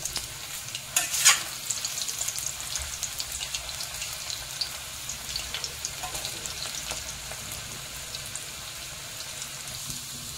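Chicken koftas frying in a pan, giving a steady close sizzle and crackle throughout with a brief louder spatter early on.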